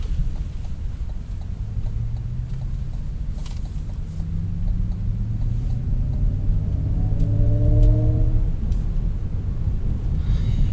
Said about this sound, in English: There is also sound whenever you press on the gas, just like any EVs.